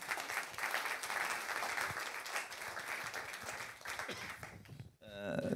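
A conference audience at a business leaders' colloquium in Avignon applauds loudly and steadily for about five seconds, dense clapping that cuts off abruptly near the end, followed by a brief voice.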